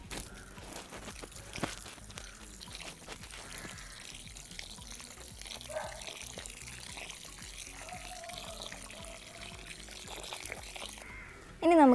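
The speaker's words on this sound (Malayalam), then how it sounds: "ഇനി ഇതൊന്ന് നമുക്ക് വെള്ളം ഒഴിച്ചൊന്ന് നനച്ച് ഒന്ന് കൊടുക്കാം." Water is poured onto the soil of a potted jasmine plant, giving a soft, steady trickle that runs for several seconds, with faint crunches of wet soil close by.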